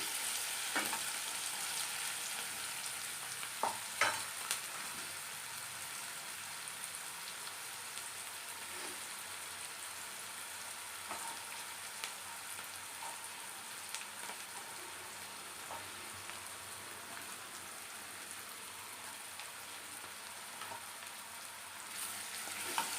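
Onions frying in a pan for a gram flour bajji curry, a long steady sizzle close by with occasional stirring scrapes and pops, no talking.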